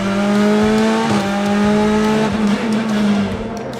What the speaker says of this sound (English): Replay here of the cars going through Paddock